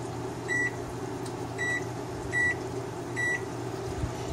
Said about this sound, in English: I have to use my microwave because this goddamn oven doesn't have a timer on it